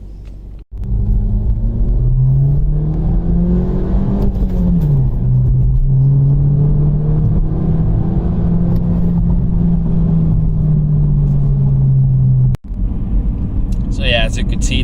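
A 2013 BMW 1 Series F20 drives and accelerates, its engine a steady droning rumble whose pitch climbs slowly through long gears, with a brief dip before the end and talk running over it.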